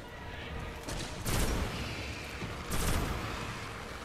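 A shotgun fires in the video game Destiny, two heavy booming blasts about a second and a half apart over game ambience.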